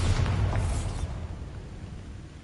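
A Bombarda blasting spell goes off in a Harry Potter video game, a single loud low boom that bursts at once and then fades into a long rumbling tail.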